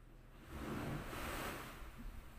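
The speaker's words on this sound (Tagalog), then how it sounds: "Yan, lumakas yung alon." Ocean waves swell and break near an island shore, a broad rushing surge that builds and fades, with wind blowing across the microphone.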